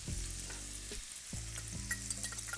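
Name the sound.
garlic and red onion frying in a pan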